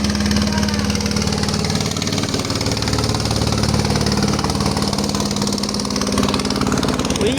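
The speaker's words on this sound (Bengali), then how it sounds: "এটাতে যখন ইঞ্জিন লাগাইছে এখন এটাকে কি বলে এটাকে টলার বলে" A wooden boat fitted with an engine (a trawler) chugs steadily and loudly nearby, a continuous low droning rumble with no voices.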